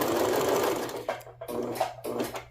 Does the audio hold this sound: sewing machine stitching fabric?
yes